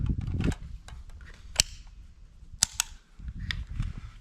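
Sharp, loud rifle reports from a Zastava M77 firing at a microwave outdoors, several distinct cracks spaced irregularly over a few seconds with quieter clicks and handling noise between them.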